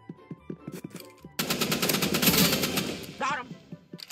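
Bursts of assault rifle fire from a Roblox gun game. Scattered single shots are followed by a sustained, loud automatic volley and then a few more pops.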